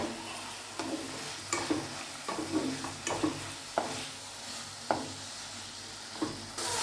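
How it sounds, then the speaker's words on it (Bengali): Chicken mince with turmeric, sugar and chili powder is stirred in a pan, with repeated scraping strokes over a steady soft sizzle of frying, close by and with no voices. "এবার খুব ভালো করে মিক্সড করে নিচ্ছি।"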